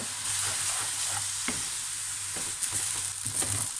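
Dinosaur kale noodles with dark soy sauce sizzle and crackle in a hot wok, with repeated scraping stirs of a spatula over a steady frying hiss.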